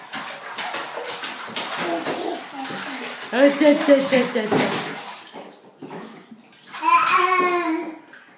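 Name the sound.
child splashing water in bathtub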